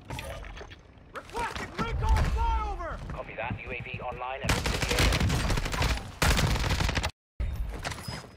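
Gunfire crackles in Call of Duty Warzone 2, a run of loud broadband shots bursting after someone talks, with a sharp cutoff near the end.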